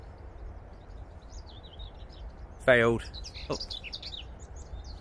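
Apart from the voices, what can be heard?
birds chirping by a canal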